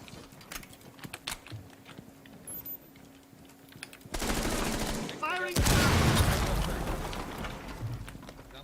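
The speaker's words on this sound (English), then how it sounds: "And they know what I'm doing, so I can shoot out the camera." Gunfire in Rainbow Six Siege as a player shoots out a security camera: loud, dense bursts of shots that break out suddenly after a stretch of quieter clicking and small noises, then stay loud and sustained through the end.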